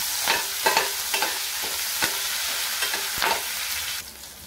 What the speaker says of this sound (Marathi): हिंग, आलं लसणाची पेस्ट, कढीपत्ता हे परतून घेते।